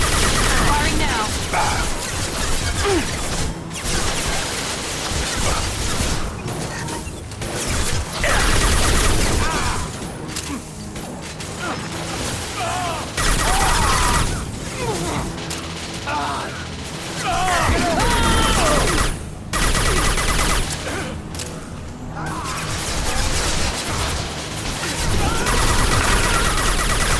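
Gunfire rings out through a Mass Effect 2 firefight, dense and continuous with bursts of automatic fire and sharp cracks over the whole span, mixed with battle clamor and voices.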